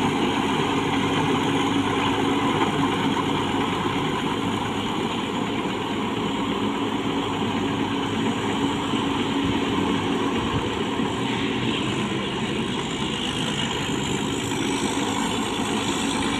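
A rotary tiller tractor runs steadily through a flooded rice paddy, its engine drone continuous and fairly loud for the whole stretch, with wind noise mixed in and no talking.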